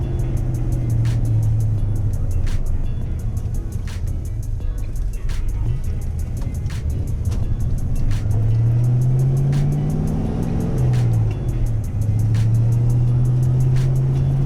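Foxbody Mustang with 8.8 rear gears pulling in first gear at about 10 mph, a steady loud engine drone heard from inside the car, its pitch rising and falling through short rev swells before settling.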